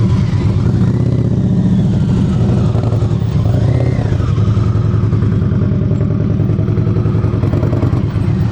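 A motorcycle engine runs close and loud during slow-speed riding practice in Georgia, a continuous throbbing idle with the throttle gently blipped and rising briefly in pitch midway.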